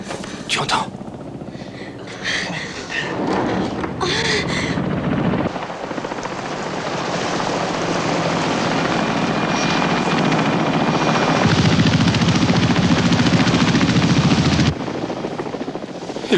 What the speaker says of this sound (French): C'est un hélicoptère.